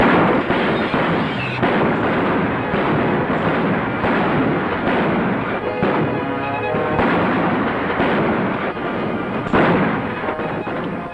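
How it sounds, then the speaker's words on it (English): Gunshots in a western film shootout, a sustained loud barrage of overlapping shots and rumbling blasts with no pauses, dense and echoing throughout. "Pretty good shooting, Meg."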